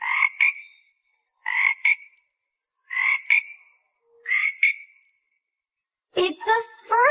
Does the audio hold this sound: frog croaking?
yes